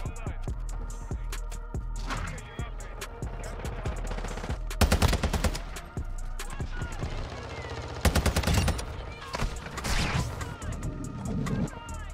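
Rapid automatic fire from the TAQ-V rifle in Call of Duty: Modern Warfare 2 rattles in repeated loud bursts, with dense volleys around 5 and 8 seconds among scattered single shots and game noise.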